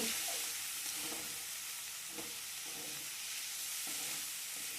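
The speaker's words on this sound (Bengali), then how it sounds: "ডালটা দিয়ে এবার সব কিছুর সাথে মশলার সাথে একটু ভালো করে নাড়াচাড়া করে নেব।" Soaked dal lentils and spices sizzle in a hot pan with a steady frying hiss, while a spoon scrapes through them in periodic stirring strokes, heard close up without talk.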